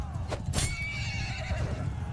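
Horse neighing in the medieval battle game Mount & Blade II: Bannerlord, a bright whinny with a couple of sharp bursts over a steady low rumble of battle noise.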